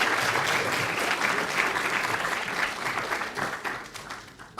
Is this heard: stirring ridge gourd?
no